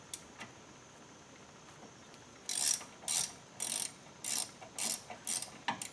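A ratchet wrench clicks in quick bursts while loosening a 16 mm drain plug on a hydrostatic drive, close and alone, with about seven short ratcheting strokes after a quiet start.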